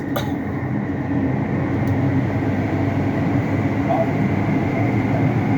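An Istanbul metro train runs through an undersea tube tunnel toward Sirkeci, giving a steady, loud rolling rumble and hum from inside the carriage while someone speaks over it.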